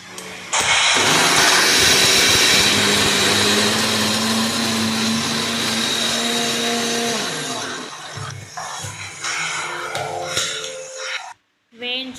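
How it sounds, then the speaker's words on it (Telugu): A kitchen mixer grinder blitzes roasted spices such as dried red chillies: a loud, close, continuous motor whir and rattle for several seconds, then easing into quieter, uneven grinding before cutting off. "వేయించుకొని అన్నీ ఇలా మిక్సీ పట్టుకొని పక్కన ఉంచుకోవాలి"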